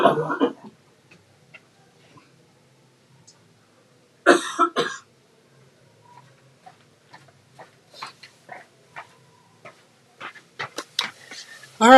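A woman coughs a few sharp times off to the side, muffled and distant, with long quiet gaps and faint clicks and small sounds in between.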